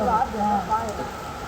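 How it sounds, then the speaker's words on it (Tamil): Rain falls steadily outdoors, a constant soft hiss of drops heard beneath a person talking nearby. "மழை பெய்யுதுல, மழை பெய்யுது"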